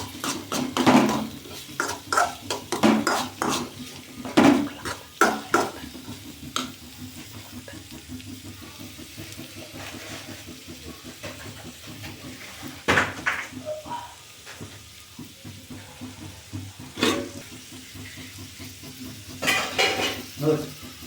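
Cooked rice tipped into a pan holding a carrot and beetroot mixture for beetroot rice, with scraping and clatter from spoon and pan, several sharp knocks and stirring sounds spread through a quieter stretch.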